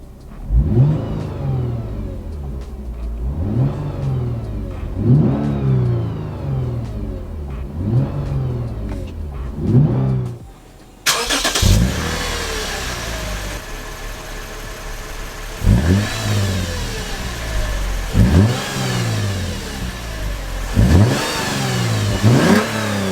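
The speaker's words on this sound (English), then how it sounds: "let's do some revs, I guess, in cabin, and then I'll do some revs outside as well, just to see what that sounds like" Lexus GS350 V6 fitted with an Invidia axle-back exhaust revs repeatedly, first heard from inside the cabin and then outside. The engine rises and falls in regular swells, with sharper throttle blips in the second half.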